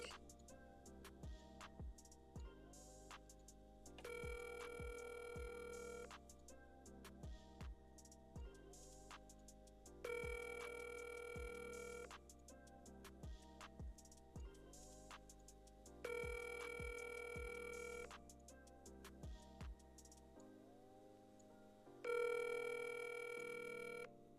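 Telephone ringing on an outgoing call, a repeated electronic ringback tone in regular bursts with clicks between them, clear and fairly faint, with no talking.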